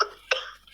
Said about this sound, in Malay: Kenapa batuk tu?